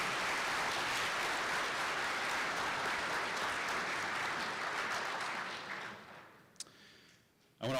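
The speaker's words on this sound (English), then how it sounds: "So please give them a round of applause again." An audience at an annual student design competition banquet gives full, dense applause that holds steady, then fades out over the last couple of seconds, leaving a few stray claps.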